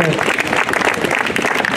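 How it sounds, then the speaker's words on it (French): Loud, dense crowd applause outdoors at the unveiling of a Tour de France mural at Isola 2000, honoring the painters, a continuous close clatter of many hands with some cheering mixed in. "Je pense qu'on peut vraiment les applaudir super fort"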